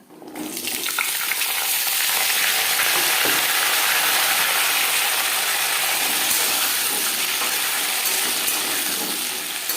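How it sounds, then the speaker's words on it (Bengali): Radish frying in a pan with dried chillies and cumin seeds gives a loud, dense, continuous sizzle that starts abruptly and holds steady, with faint stirring scrapes underneath. "মূলো ভেজে নেব।"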